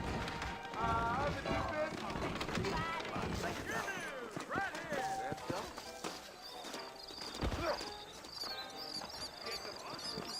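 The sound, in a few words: horses riding in Red Dead Redemption video game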